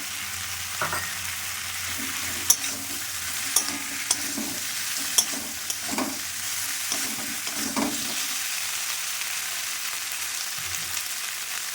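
Ginger-garlic paste fries in a pan for a rohu fish curry with cauliflower and potato, a steady low sizzle broken by spoon scrapes and clinks as it is stirred, with no talking.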